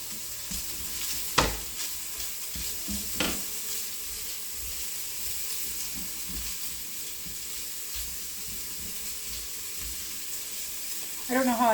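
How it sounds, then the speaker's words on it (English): Onion dropped into a hot pan at home, a quiet steady sizzle with a couple of sharp clatters early on and a brief louder burst of frying at the end, no talking. "I'm gonna throw the onion in."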